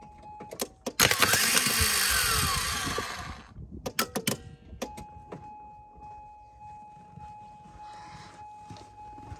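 Starter motor from a Toyota Land Cruiser 80, set on the engine in freezing weather, whirs loudly for about two seconds, followed by clicks, clunks and a faint steady tone.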